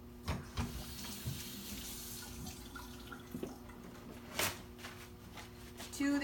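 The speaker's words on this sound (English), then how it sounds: "Quickly wash your hands." Hands being washed under a running kitchen tap during baking, with a steady stream of water splashing into the sink and occasional louder splashes as the hands move.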